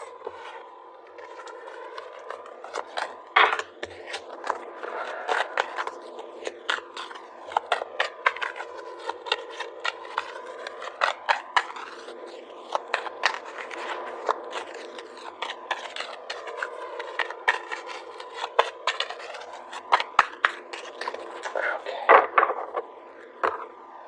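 Tarot cards being shuffled and drawn: a steady run of papery riffling and flicking, with sharper card snaps and slaps recurring throughout, close and fairly quiet, with no voice.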